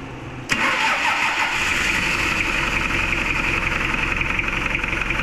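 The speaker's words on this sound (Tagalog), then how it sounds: "paanda rin naman natin para marinig natin yung ingay ng kanyang makina" A Toyota car engine cranks and catches with a sharp start, then settles into a steady, loud idle close by.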